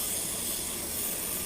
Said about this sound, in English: we need to spray this with a little bit of oil